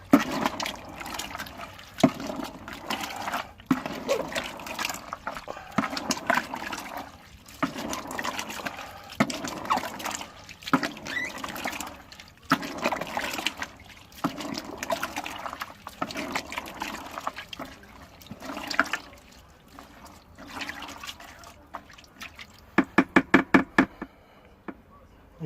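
Sweet corn being mixed in water as carp-fishing bait makes repeated wet sloshing and trickling bursts in an irregular rhythm, close and fairly quiet, ending with a run of sharp knocks.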